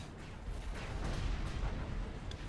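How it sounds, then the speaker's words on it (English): Detriment unit blowing up in the Zero-K strategy game, a broad, rumbling low boom that swells and holds steady for a couple of seconds with crackling debris texture, no voices over it. "These Detriment explosions are looking kinda weird though today."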